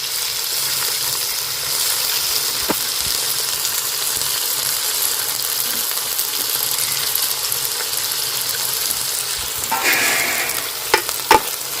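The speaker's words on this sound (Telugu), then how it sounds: "మెంతం కూర వేసుకున్నాం చూడు" Fenugreek leaves sizzle in a pan, a continuous bright hiss that stays loud and even, with a couple of sharp knocks and scrapes near the end and no talking.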